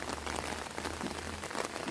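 Steady rain patters onto a Thai vegetable garden in Hungary, a close, even hiss of countless drops striking plants and soil without pause.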